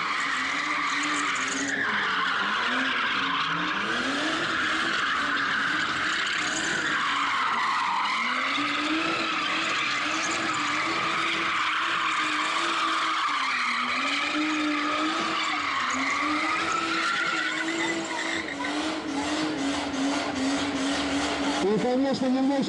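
A car drifts at an outdoor bike and drift show, its tires skidding and squealing in long, wavering wails. The engine roars loud and close underneath, and people talk over the noise.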